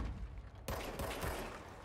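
Gunshots in the action game Control: a sudden loud burst of rapid fire cuts in after a quiet moment and carries on as a sustained crackling volley.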